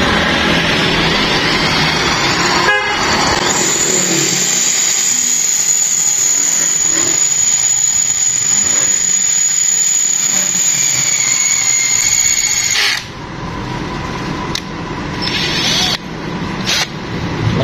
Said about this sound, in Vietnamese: Khoan thì nhớ cho nó đều tay nha anh em, để cho cái lỗ của nó được đều.